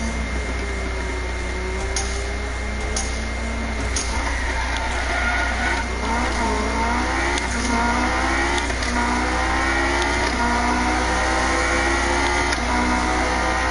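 A Honda S2000 engine in the Need for Speed racing game, loud and continuous, revving up and down through the gears with rising and falling whine and no speech over it.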